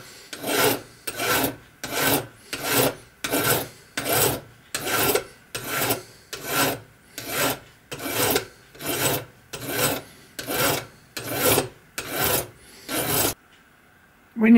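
A hand file rasps across an engine cylinder to cut a 45-degree chamfer, about fifteen even, rhythmic strokes, close and clear, ending in a brief quiet pause.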